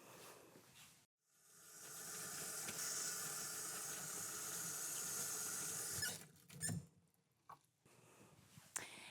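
A caregiver washes their hands under a running tap at a sink, making a loud, steady hiss of flowing water for about five seconds, then a few scattered splashes and handling sounds.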